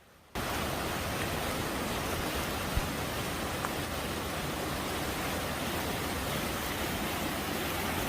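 Heavy storm rain pours down in California, a dense, steady roar of water striking surfaces that starts abruptly and holds loud and even, with a couple of faint drip accents and no voices.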